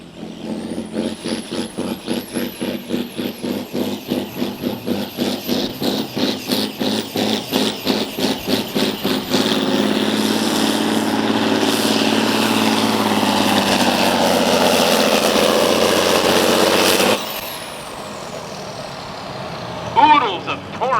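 A John Deere 6030 pulling tractor at a Platteville tractor pull revs in rapid rhythmic bursts, then holds a loud, steady engine roar down the track before cutting off sharply, followed by quieter background noise.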